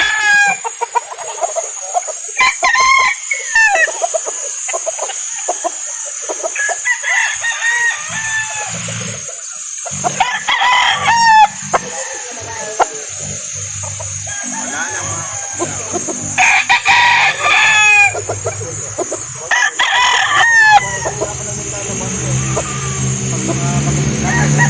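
Chickens and roosters at an outdoor chicken market cluck and crow repeatedly, some close and some farther off, with people talking and occasional vehicle noise throughout.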